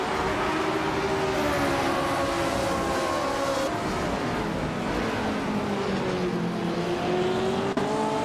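Race cars in a racing game, among them a 1962 Porsche 804 starting on pole at the Sydney Homebush Street Circuit, roar continuously at close range with rising and falling engine tones and no talk.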